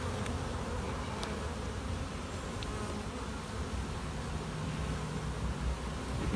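Honeybees buzzing inside a cell builder hive where comb is being built, a dense continuous drone heard up close at steady, moderate loudness with no talking.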